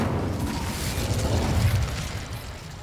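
The Incendio fire spell in Hogwarts Legacy goes off as a dense, rumbling whoosh of flame that holds steady for a couple of seconds and then eases off, with no talk over it.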